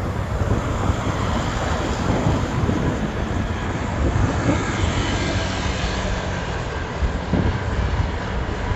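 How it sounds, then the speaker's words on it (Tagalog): Strong wind roars across the microphone in a continuous, heavy rushing buffet with a deep rumble underneath. "Lakas ng hangin."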